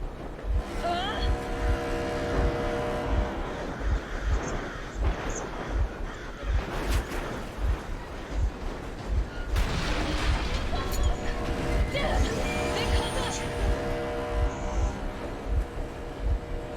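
A vehicle engine runs in the video game Metro Exodus, a continuous rumbling drone with rhythmic low thuds, loud and close, under talking voices and scattered bangs.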